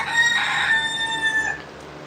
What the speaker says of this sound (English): Got the resident roosters.